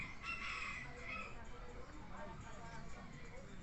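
A roundhead gamecock rooster crows with a drawn-out, fairly faint call near the start, set against a noisy yard with someone talking over it throughout.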